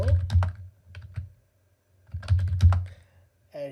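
Fingers type on a computer keyboard in quick bursts of close, crisp key clicks, pausing briefly between runs of keystrokes.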